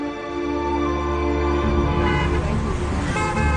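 Beijing road traffic with cars honking, a sustained horn tone held over a continuous rumble of engines, then the tone breaks into a busier, noisier wash of passing vehicles.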